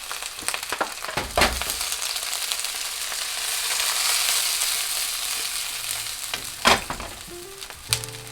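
Chicken tsukune meatballs fry in oil in a pan with a steady close sizzle that swells in the middle, broken by a few sharp scrapes and clacks as the pieces are turned.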